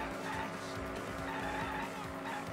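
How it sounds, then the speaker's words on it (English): Sustained tire squeal of a car skidding in the video game Danganronpa V3, a steady loud screech with engine rumble underneath throughout. "Oh, but there's a car."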